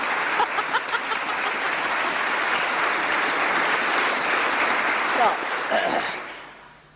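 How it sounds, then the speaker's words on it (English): An audience at a Sahaja Yoga class claps steadily for several seconds, a dense even patter that swells slightly and then fades away at the end. "You are clapping for yourself."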